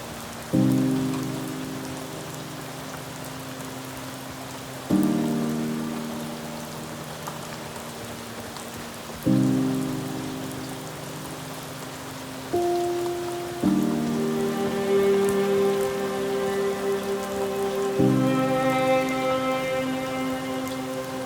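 Steady rain hisses and patters during a mountain hike on the Main Beskid Trail in Poland, with a repeating tonal chord layered over it that shifts every few seconds.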